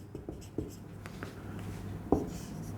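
Pen writing on paper, soft scratchy strokes and light taps close by, faint and intermittent over a low steady hum.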